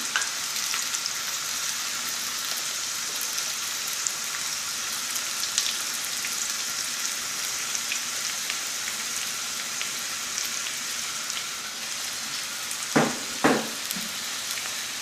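Onions frying in a small pan, giving a steady soft sizzle throughout with a couple of brief utensil knocks near the end.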